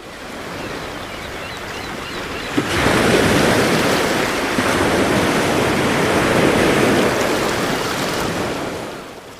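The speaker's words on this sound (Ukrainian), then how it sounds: "Давайте разом послухаємо, як розмовляє море." Sea surf and breaking waves, a broad roaring wash that swells loudly after a softer opening, holds for several seconds, then eases off toward the end.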